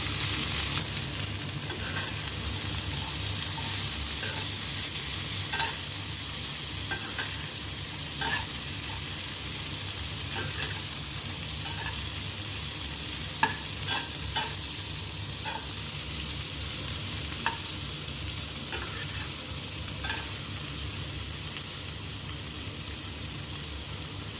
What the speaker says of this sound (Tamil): மிடில் ஸ்டிர் பண்ணிக்கிட்டே அப்படியே ஃப்ரை பண்ணலாம்